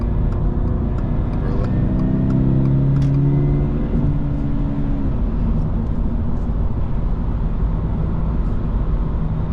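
A 2025 Toyota GR86 engine revs and accelerates up close, a loud steady drone with a rising harmonic sweep around the middle, then settling into sustained road noise.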